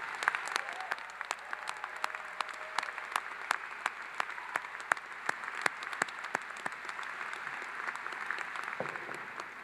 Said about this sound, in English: I think you deserve a really loud round of applause.